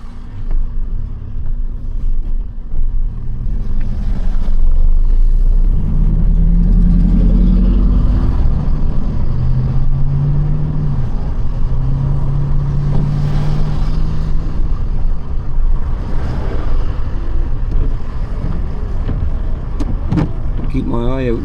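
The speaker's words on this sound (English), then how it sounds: "All kinds of traffic." Road traffic rumbles past in a long, continuous swell of engine and tyre noise, close and loud, with a voice talking over it.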